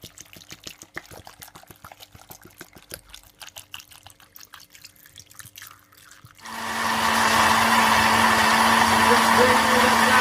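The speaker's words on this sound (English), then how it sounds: "Just blend it up guys" A kitchen blender whirs loudly and continuously, starting abruptly after some clattering and drips as water is poured in, blending raspberries, pineapple and apple into juice.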